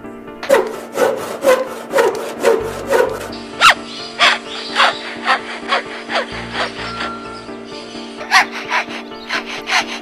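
A bird's call imitates a hand saw cutting wood: a close, loud run of about twenty rhythmic rasping strokes.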